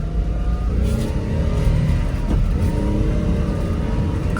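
A car engine runs steadily and loud up close, with a continuous rumbling drone and slight swells in revs throughout, no voices.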